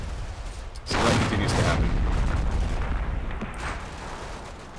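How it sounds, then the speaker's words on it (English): Heavy 30mm cannon fire from a helicopter in the combat game Combat Mission rolls in as a dense, rumbling burst of booming shots that lingers and slowly fades, with someone briefly talking over it. "This is definitely from the cannon of a helicopter."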